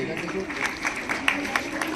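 At a girls' school award ceremony honouring students, the audience claps in a scattered run of applause with a voice talking over it.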